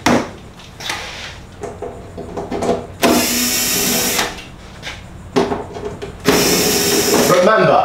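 A power drill whirs in several bursts, revving up and down loudly, with pauses between and a voice talking in the gaps.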